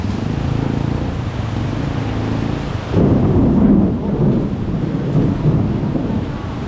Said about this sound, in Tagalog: Ang lakas ng mga kulog at kidlat.